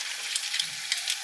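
Eggs sizzle and crackle in a hot pan, a bright, close frying hiss with small pops.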